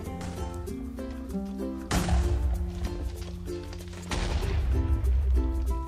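Repeated explosions burst out during a Wither boss fight in Minecraft, two loud booms near the two-second and four-second marks cutting through steady game music, with no talk over them.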